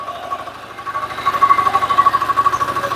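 Engine of a 10 HP power tiller idling and running steadily as the clutch is engaged and first gear put in, a rhythmic low chugging that grows louder and more pulsing partway through, heard close without talk.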